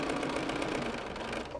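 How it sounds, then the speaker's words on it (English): A sewing machine fitted with a stitch-in-the-ditch foot stitches down quilt binding, giving a steady, close mechanical whir that runs without a break and eases off slightly at the end. "After we stitch this down a couple of stitches"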